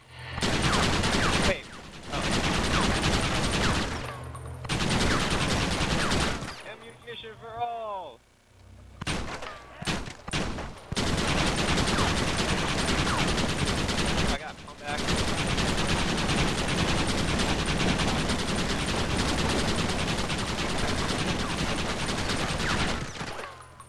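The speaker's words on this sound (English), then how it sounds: "I wanted to kill this guy with the Gatling gun" Gatling gun in Red Dead Redemption firing long, loud, sustained rattling bursts that run nearly continuously with a few short breaks and some other game sounds between them.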